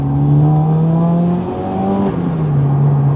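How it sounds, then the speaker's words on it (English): Loud supercharged Honda Accord Euro R engine revving hard and climbing quickly in pitch, with a brief dip as it shifts before pulling again; close and continuous. "The engine is so quick to rev."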